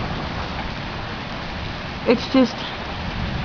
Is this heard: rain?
yes